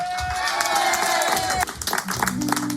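Live radio event crowd cheering and clapping for a singer, a busy mix of claps and crowd noise over a sustained musical tone that cuts off midway, followed by scattered claps and music starting.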